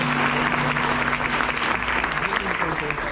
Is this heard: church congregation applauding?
yes